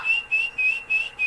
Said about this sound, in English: They come to whistles.